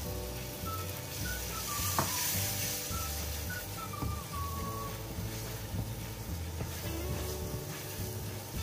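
Masala for restaurant-style paneer pasanda bubbles and sizzles in oil in a pan, a steady low crackle with a few soft clicks and faint whistling tones, with no talking.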